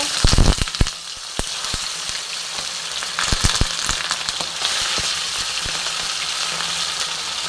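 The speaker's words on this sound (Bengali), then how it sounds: "কড়াইতে সাদা তেল গরম করে নিয়েছি এবার বাটা মাছগুলো আমি ভেজে নেবো" Bata fish coated in salt and turmeric sliding into hot white oil in a kadai, opening with loud sharp spits and pops that settle into a steady dense sizzle, close and alone.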